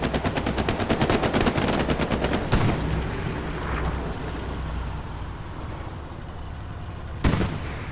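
Rapid bursts of automatic gunfire crackle in a fast, dense run over the first two and a half seconds at a nighttime Hold The Line airsoft or paintball game at Foy, West Bend. A single sharp cannon-like blast follows, then another one near the end, all heard from mid-distance.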